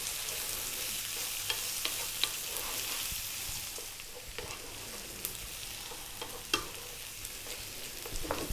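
Potatoes fry and get stirred in a pan over high heat for a mushroom potato curry, giving a steady close sizzle broken by scraping stir strokes and small clicks of the spoon, with no talking.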